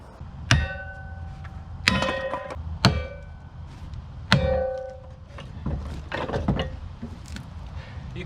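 A Kindling Cracker King cast-iron splitter splits firewood with four sharp thunks and clangs as the wedge bites, spaced about a second apart, then softer cracking and creaking of wood, close by with no talk.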